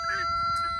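A rooster crows once up close among chickens near a garden, a short harsh call with an audible voice mixed in behind it.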